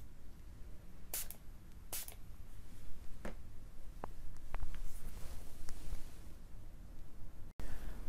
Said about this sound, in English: I might do a quick spray.